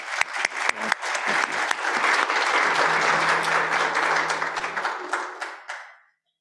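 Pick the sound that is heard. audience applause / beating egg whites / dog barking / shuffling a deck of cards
audience applause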